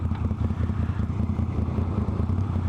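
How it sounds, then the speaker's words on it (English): A Moto Guzzi V7 III motorcycle engine runs steadily with a low throbbing rumble and light mechanical clatter, close and continuous, consistent with engine braking while riding. "The engine braking on this bike is fantastic as well."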